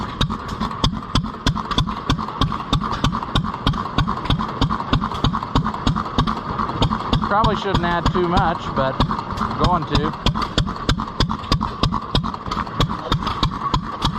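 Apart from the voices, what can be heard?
antique stationary gas engine running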